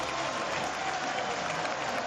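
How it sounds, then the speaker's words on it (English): A large crowd cheers and applauds steadily as a cyclist rides into the Roubaix velodrome during the 2009 Paris-Roubaix race, a dense, loud roar with no pauses. "Round he goes, a huge cheer goes up here."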